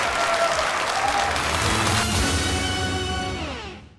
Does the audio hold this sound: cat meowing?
no